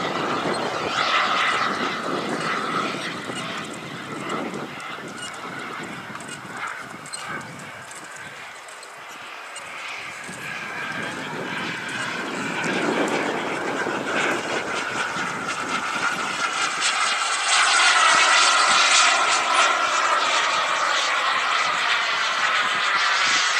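Rafale fighter jet taking off at an outdoor July Fourth airshow, a sustained loud broadband engine roar that swells and builds toward the end as the aircraft climbs away, with an announcer talking over it.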